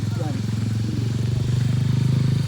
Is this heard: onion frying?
no